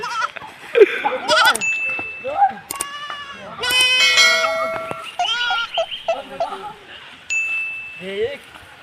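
Goats bleat repeatedly in short, wavering calls over several seconds, mixed with people talking and some faint tinkling nearby.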